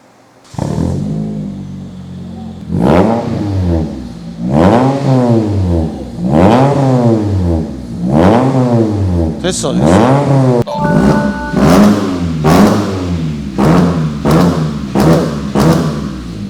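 A Hyundai Tuscani four-cylinder engine revs repeatedly through a newly fitted exhaust muffler, each loud sweep rising and falling in a steady rhythm of about ten blips, with a brief voice speaking in the middle.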